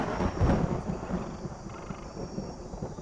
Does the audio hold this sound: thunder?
yes